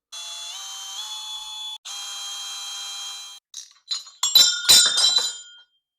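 A small screw drops from the throttle housing of a Yamaha Super Tenere and clinks a few times on a hard surface, a short bright rattle that follows a steady tonal whine which stops abruptly.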